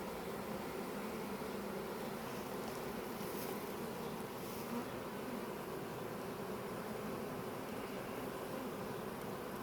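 Dense, steady buzzing of many honeybees around an open, very strong hive being inspected, a continuous close drone with no talk.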